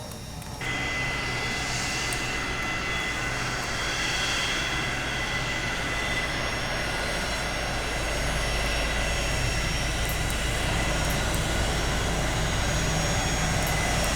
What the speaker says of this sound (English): You can hear the avionic bay here, the air rushing.